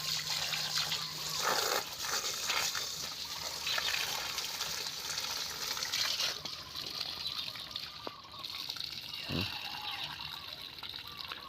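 Water pours onto the soil of a potted plant, a steady close trickle and splash running under a voice, with a few brief knocks near the end.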